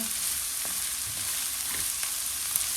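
Drumstick leaves fry in hot oil in a pan, a loud continuous sizzle with soft scraping as they are stirred, close up with no talking.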